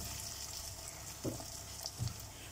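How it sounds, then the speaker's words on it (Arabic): Rice being stirred as it fries in a pot, a steady low sizzle with a few soft scraping knocks of the spoon partway through. "هقلب بقى فيه كده لحد ما يتفلفل معايا خالص"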